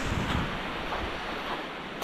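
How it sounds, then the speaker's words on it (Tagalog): Waves on Taal Lake wash in a continuous rushing surge close by, with wind buffeting the microphone over the water. "Alon."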